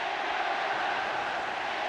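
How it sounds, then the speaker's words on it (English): A football stadium crowd at a 1973 England versus Italy friendly swells with a dense, steady roar, distant and continuous across the whole moment. "An incident which has brought the crowd to life."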